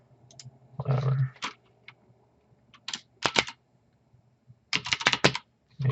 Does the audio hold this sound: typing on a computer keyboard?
yes